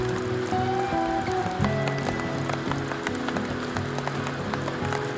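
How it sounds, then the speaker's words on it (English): Rain falling during a rainstorm at a campsite, a dense patter of drops striking a nearby surface with scattered louder taps, steady and fairly loud, with a tonal hum underneath and no voices. "I woke up to quite the rainstorm."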